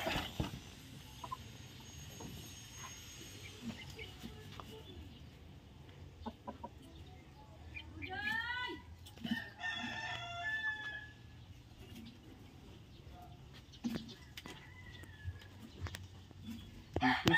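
Chickens in a backyard coop clucking softly and intermittently, with a rooster crowing clearly near the middle and scattered scratching and rustling around the birds.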